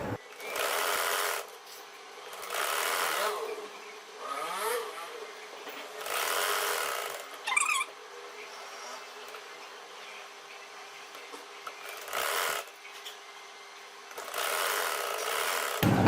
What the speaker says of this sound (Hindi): अब मैं इसको सिलाई लगा रही हूँ।